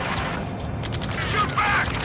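Ace Combat 7 combat with continuous rattling gunfire and explosions, a dense, loud battle din with a brief sharper whine near the end.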